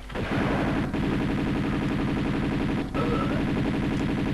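Dense, continuous Uzi automatic fire blazes in Tomb Raider 2, rapid shots merging into a loud sustained stream for several seconds with a couple of brief breaks.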